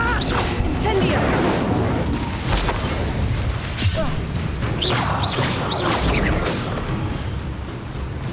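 Incendio fire spell casts in Hogwarts Legacy, heavy whooshing bursts and booming impacts amid continuous combat clatter, loud throughout with voices talking over it.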